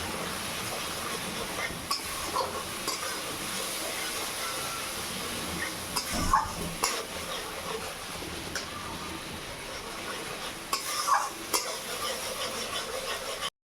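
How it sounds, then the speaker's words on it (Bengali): Steady sizzling and hiss of eggplant frying in a pan with salt and turmeric, continuous at moderate level with a few faint stirring clinks, no talking. "লবণ, হলুদ দিয়ে ভালো করে ভেজে নিতে হবে"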